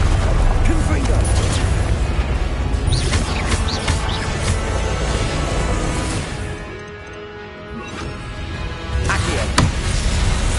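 Spell blasts from the Hogwarts Legacy video game crash out as loud, dense booms and explosive bursts over a constant din of game noise, with brief bright cracks near the end.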